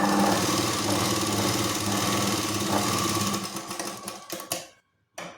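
A sewing machine runs steadily while stitching a double seam on a Katori blouse, then slows and stutters to a stop near the end before one short final burst of stitching.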